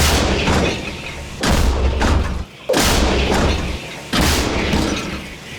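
Three heavy booming blasts from an M109L self-propelled howitzer, spaced about a second and a half apart, each followed by a long rumbling decay, loud and close.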